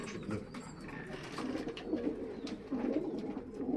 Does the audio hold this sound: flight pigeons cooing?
yes